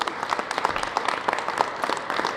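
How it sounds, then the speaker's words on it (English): A small audience at a government press event claps for a girl's parents, with a brief, moderately close burst of scattered hand claps and a faint murmur underneath. "Let's have a round of applause for the parents."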